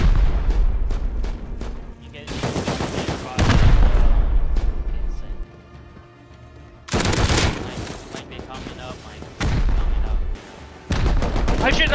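Rockets and gunfire in the survival game Rust, with bursts of rapid automatic fire and heavy booming blasts coming in loud clusters between short quieter gaps, while players talk over the action.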